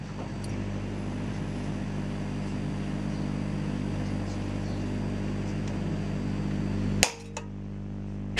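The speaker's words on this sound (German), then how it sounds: "Ihr Glas ist durch die Erwärmung wie eine Blase aufgequollen und geplatzt." Glass of a light bulb heated inside a microwave bursts with a single sharp crack near the end, following steady loud microwave hum that cuts off abruptly, with a faint second snap after.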